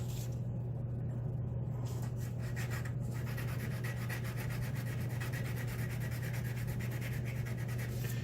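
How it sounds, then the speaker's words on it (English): A lock part rubbed back and forth on sandpaper, a steady, faint scratchy rasping under a constant low background hum. "I'm just going to buff it on this sandpaper"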